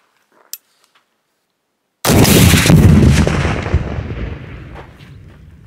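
Bulgarian RPG-7 rocket launcher fires after a second of near silence: one sudden, loud blast followed by a long rumbling roar that slowly fades, with no voices.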